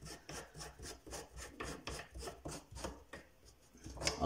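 Plastic outlets of a bathroom sink siphon being unscrewed, producing faint, close, rhythmic rubbing and creaking scrapes with each turn, with no talking.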